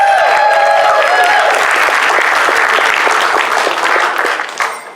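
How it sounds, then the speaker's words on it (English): Audience at a comedy roast bursts into dense, loud applause with some cheering, holding strong throughout before tapering slightly at the end. "Please give a round of applause."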